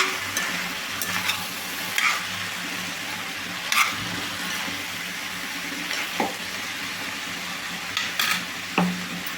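Ivy gourd pieces sizzle in a frying pan as a metal spatula stirs them, with a constant frying hiss and repeated clanks and scrapes against the pan.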